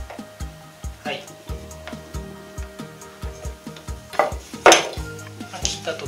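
A knife taps and scrapes against a board while trimming the edge off laminated butter dough, a series of regular close clicks and knocks with a few brighter clatters, as someone talks.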